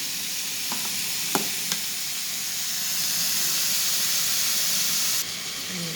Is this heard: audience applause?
no